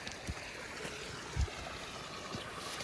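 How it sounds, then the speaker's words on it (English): Creek water rushing and splashing down steeply like a full waterfall, a steady broadband outdoor roar with a brief louder gush midway. "It's like a full-on waterfall coming down."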